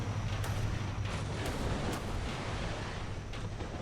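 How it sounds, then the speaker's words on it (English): Naval gunfire from two enemy ships in the ShipCrafter video game: repeated distant booming shots at irregular intervals over a steady, dense rumble, fairly faint overall. "I'm under fire from 2 ships"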